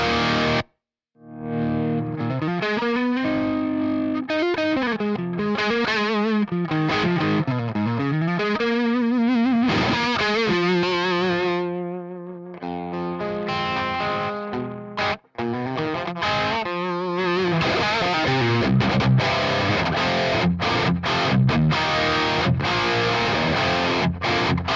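A distorted electric guitar dialed to a basic rock tone plays sustained chords and bending riffs, loud and close and continuous apart from brief gaps, with no talking.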